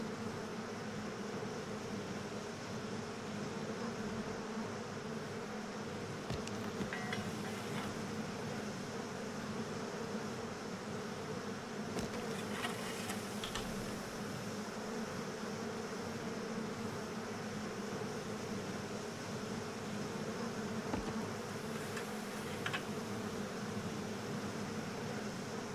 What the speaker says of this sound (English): We gotta smoke out the bees.